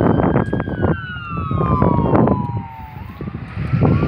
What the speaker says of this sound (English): that ambulance right there